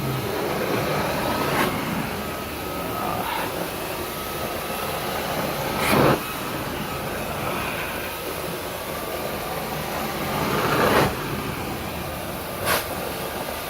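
A carpet cleaning extractor pulls dirt from carpet with a continuous roaring suction drone, swelling in several brief surges as the wand passes.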